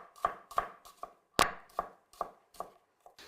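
A knife chops through mushrooms on a board, about nine crisp, evenly spaced cuts close up, with no talking.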